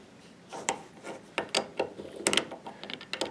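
A Harbor Freight 2-in-1 adjustable wrench ratchets on a nut, giving a string of close, dry metallic clicks and scrapes that come unevenly at first, then faster in short bursts.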